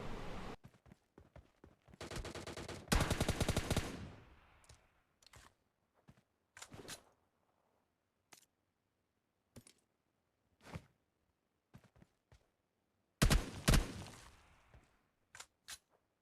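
M4 rifle fire in a battle royale video game: loud bursts of automatic gunfire around the 2–4 second mark and again near 13 seconds, with scattered single shots and sharp clicks in between, no voices.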